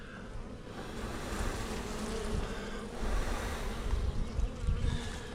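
Honeybees buzzing around a hive frame during an inspection, a dense continuous swarm hum that swells and fades close by, with no talking.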